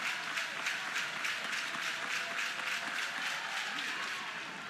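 Sooners crowd at an Oklahoma college softball NCAA Tournament game cheering and clapping for their pitcher, a sustained moderate roar of applause from the stands that slowly fades toward the end.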